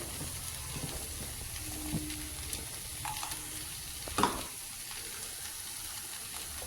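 Tofu sizzling in a pan with soy sauce, tomato sauce and onions, a quiet, steady fry hiss with a few soft utensil taps and one louder clink near the end.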